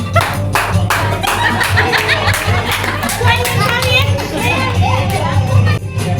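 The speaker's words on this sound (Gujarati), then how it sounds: "બધા તાળી તો પાડો." Family members clap for a child's birthday cake cutting, bursts of hand claps mixing with children's chatter, giggles and lively crowd noise close by in a busy room.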